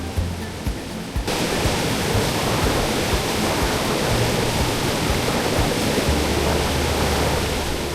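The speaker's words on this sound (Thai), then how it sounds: "ปล่อยให้เสียงของน้ำตกเนี่ย มันฮิวใจเรานะครับ" Roaring waterfall, a dense steady wash of falling water that swells in after a brief quieter start and continues loud and unbroken.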